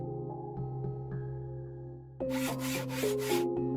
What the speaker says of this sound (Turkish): Tamam o zaman testereyle kes.